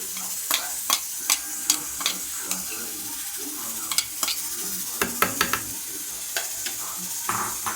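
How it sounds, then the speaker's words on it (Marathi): Tomato puree goes into sizzling, half-cooked spinach for Sindhi sai palak, with a steady frying hiss broken by repeated sharp scrapes and clinks of a spoon stirring the pan. "आता ह्याच्यामध्ये आपण टोमॅटो प्युरी टाकायची"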